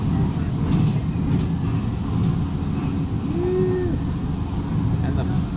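A Wild Mouse roller coaster at Gröna Lund amusement park runs as a steady, rumbling mechanical roar of rattling cars on track, with a brief squeal partway through, heard from nearby.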